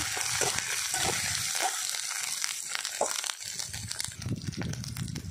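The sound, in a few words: sautéing ground masala paste with turmeric and salt in a pan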